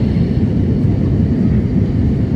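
Inside a passenger airliner during its landing descent, a steady loud low cabin roar of engines and airflow continues without a break.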